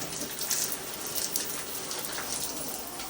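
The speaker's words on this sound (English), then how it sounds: "Shower." Warm shower water sprays steadily onto a military macaw indoors, a continuous close hiss of droplets with slight splashing fluctuations and no talk.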